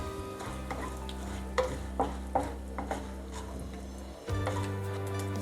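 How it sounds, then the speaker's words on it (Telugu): Mustard seeds and asafoetida fry in hot oil in a pan, a steady close sizzle broken by several clinks of a stirring spoon, then a louder burst of sizzling near the end. "దీంట్లోకి మనం ఆవాలు వేసి కొంచెం ఇంగువని వేసి ఫ్రై చేద్దాం."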